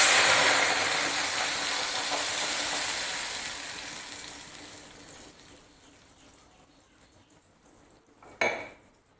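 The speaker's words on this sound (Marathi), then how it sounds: "थोडं आपण गॅसवरती शिजवून घेऊया जी चटणी केली ती घालूया" Momo chutney hits a hot pan on a gas stove with a loud steamy hiss that gradually fades to quiet, followed by a single sharp metallic clink near the end.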